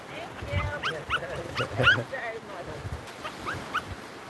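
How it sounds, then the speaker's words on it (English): A dog whimpers and gives short high yips in scattered bursts, mixed with low background noise and some indistinct sounds nearby. "Playing fetch with some dogs here"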